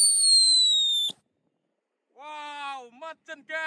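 A Whistling Thunder firecracker set among colored water balloons gives a loud, shrill whistle for about a second that ends in a sharp pop. Silence follows, then a voice calls out in excited bursts.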